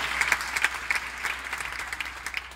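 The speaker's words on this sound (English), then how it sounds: "Give them a round of applause." Audience clapping at a presidential bid launch in Kenya, a sustained crowd applause with sharp individual claps standing out, steady and moderately distant.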